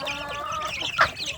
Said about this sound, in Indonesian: Pagi hari ini saya memberi makan anak ayam kampung saya sedulur